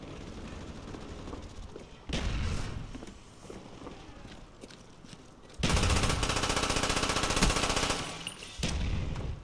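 SMG gunfire in Call of Duty: Black Ops, several loud sustained bursts of rapid automatic fire, broken by quieter gaps of distant shots and movement, no talking.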